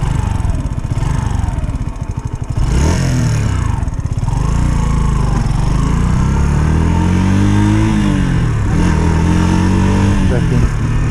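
A Sinnis mini motorcycle engine revs loudly and close by, rising and falling as it shifts up through the gears. A voice speaks briefly over the engine.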